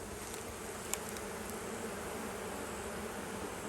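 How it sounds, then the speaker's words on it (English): Honey bees in a beehive make a dense, steady buzzing drone, with a soft knock partway through. "There's also a lot of bees down in here."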